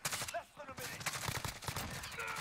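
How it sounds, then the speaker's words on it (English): Gunfire in the Modern Warfare video game during Search and Destroy, with SMG-style bursts of several quick shots at low level under game noise. "I hear shots."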